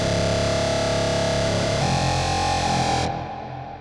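A synth tone through a Line 6 POD HD Pro with the phaser and flanger switched off, a dry, sustained distorted chord that changes notes midway before the top end cuts and it tails off, with no voices.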